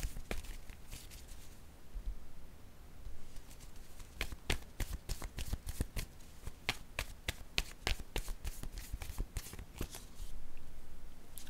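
Tarot cards are shuffled and flicked close up in quick, crisp bursts of papery taps and riffles, quiet at first and then denser and more rhythmic, with no talking over them.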